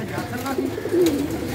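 Pigeons on a pigeon club rooftop, with soft cooing calls rising over steady outdoor background noise, one clearer coo swelling near the end.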